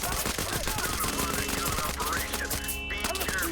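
In the tactical shooter Ready or Not, a pepperball launcher fires rapid, continuous bursts of popping shots amid dense game noise, with faint talk underneath.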